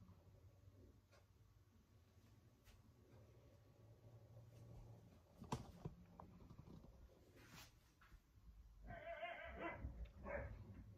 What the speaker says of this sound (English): my dogs are fighting in the background